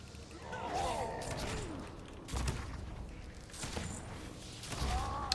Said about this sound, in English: Love the sound of gunshots and orcs dying.